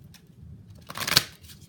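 Tarot cards being shuffled and drawn, a soft papery riffle swelling briefly to one crisp snap near the end, close and quiet over a low background hum.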